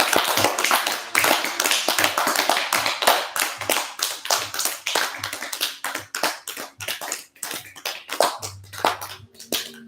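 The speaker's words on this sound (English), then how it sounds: "we're supposed to clap our hands to transition" A yoga group claps hands to mark a transition, a long run of sharp, loud claps in an uneven rhythm, close by with no talking.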